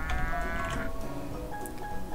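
Cartoonish livestock bleats from the video game Rock of Ages 2, a steady, loud, wavering animal call heard alone for about two seconds.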